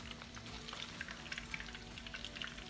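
Chicken cutlets frying in a pan, a soft steady sizzle with light crackling pops, faint and close, no voices.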